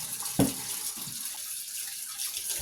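Tap water runs into a kitchen sink while raw chicken is washed for an oven-cooked dish: a faint, steady hiss of flowing water with a couple of brief clunks near the start and end.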